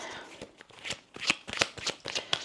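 Tarot cards being shuffled up close, crisp riffling bursts and soft slaps in quick irregular succession.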